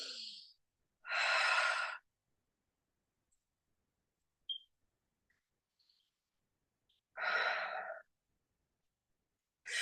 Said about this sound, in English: then just take a big breath